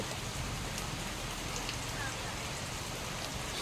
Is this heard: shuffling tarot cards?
no